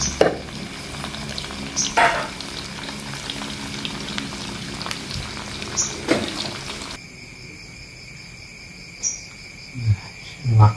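Jengkol beans frying in hot oil in a home kitchen, a continuous crackling sizzle with scattered pops that drops to a quieter hiss partway through, with no talk.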